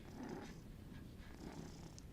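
A pet cat purrs softly and steadily at close range indoors, a low continuous rumble with no voices over it.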